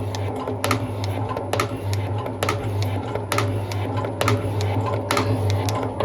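A metal lathe turns 12mm bolts into machinist jacks in a home shed, a steady mechanical hum overlaid by regular ticking and clicking from the machine, close and continuous with no talking.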